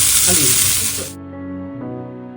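Curry leaves drop into a hot pan while making prawn coconut chammanthi, a loud bright sizzling hiss lasting about a second that cuts off abruptly, leaving a low tonal hum afterwards.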